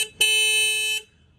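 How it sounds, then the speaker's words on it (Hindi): A single horn blast from a Bajaj Pulsar 125 motorcycle, its stock single-horn setup, sounds loud and close with a steady buzzing tone for about a second before cutting off cleanly. "एक बार हॉर्न का नोट भी आपको सुना देता हूँ।"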